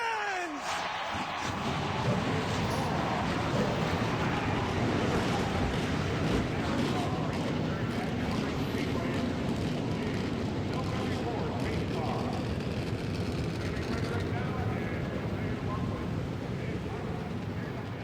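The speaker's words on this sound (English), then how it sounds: "Gentlemen, start your engines!" Race car engines fire up at Michigan in a racing video game, the Champion Spark Plug 400. A dense, loud engine roar swells after a brief moment and holds continuously to the end.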